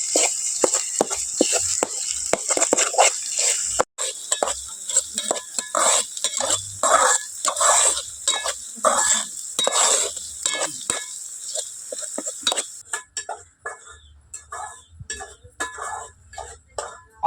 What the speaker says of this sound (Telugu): ఉల్లిగడ్డ బ్రౌన్ కలర్ అయ్యేంత వరకు వేపుకుందాం ఫ్రెండ్స్